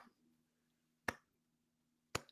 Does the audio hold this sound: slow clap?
yes